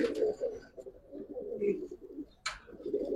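A very large pigeon coos close by in short, throaty rolling phrases, with a brief rustling hiss between the later coos.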